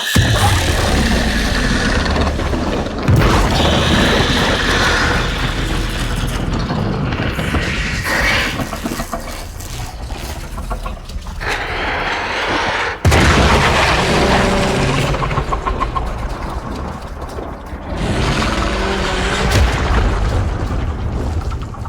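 A loud explosion booms in the video game Warframe, followed by a long run of heavy blasts and rumbling bursts with crashing debris that rise and fall over about twenty seconds.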